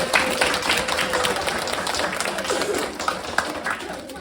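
A group applauds to close a session on a football club locker room tour, a short burst of clapping from a small crowd with voices mixed in.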